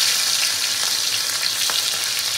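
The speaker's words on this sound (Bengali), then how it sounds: "চিংড়ি মাছটা একটু ভেজে নেবো হালকা করে।" Medium-sized prawns frying lightly in hot oil in a pan, a dense, steady crackling sizzle with small pops, close and fairly loud, continuous and with no one talking.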